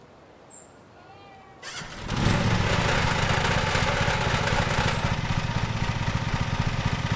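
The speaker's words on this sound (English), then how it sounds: "Z to start the mower" Ride-on lawn mower engine in Lawn Mowing Simulator cranking and catching, then settling into a steady loud running drone, with faint ambient chirps heard before it starts.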